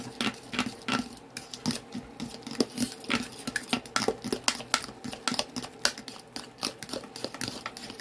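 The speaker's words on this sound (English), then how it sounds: "And just begin to stir that up" A spoon stirs stew ingredients of London broil, potatoes and carrots in a pot, producing steady, close clattering and scraping in an irregular rhythm with no talking.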